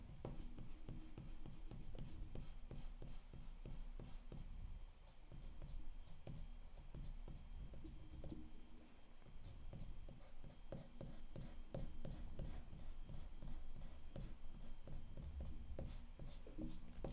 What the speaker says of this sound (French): On gomme aussi les traits de construction, bien sûr.